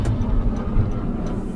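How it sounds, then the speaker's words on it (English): Jet aircraft passing overhead, heard outdoors as a continuous low broadband roar with a steady rumble and no voices over it. "didn't know what that noise was at first. I realized it was a jet above me."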